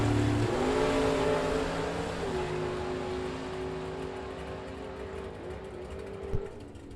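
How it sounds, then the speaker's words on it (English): A 1967 Chevrolet Camaro and a Corvette make a drag race run, their engines a sustained droning roar whose pitch shifts and then settles as the sound slowly fades with distance, with no voices. "what a run for the Camaro of Andrew Seymour"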